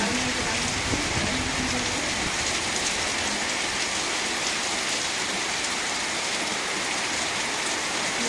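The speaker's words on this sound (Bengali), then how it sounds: "দেখো কেমন বৃষ্টি হচ্ছে" Steady, heavy rain pours down in a dense, unbroken hiss, with no voices and a constant roar throughout.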